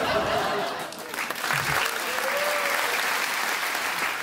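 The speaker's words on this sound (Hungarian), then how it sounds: "Ezt a tapsot anyám indította amúgy." Audience applause at a stand-up comedy club show, dense steady clapping with a little laughter, loud and filling the room, briefly overlapped by a voice near the start.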